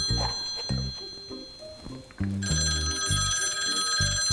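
A house telephone rings with a steady bell tone over a busy mix of other sound, its pitch holding across the whole stretch and growing louder partway through.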